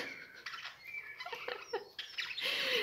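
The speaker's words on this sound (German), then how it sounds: "Guckt euch diesen Vogel an." A pet bird chirps and squawks indoors in a quick series of short, sharp calls, close by and fairly loud, with no talking.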